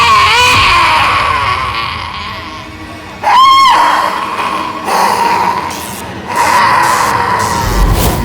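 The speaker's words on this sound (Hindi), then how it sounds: "चिल्लाने की आवाज सुनी?" A woman's shrill, wavering ghostly scream rises and falls in several drawn-out cries, loud and echoing over an eerie droning background in a haunted housing-society scene.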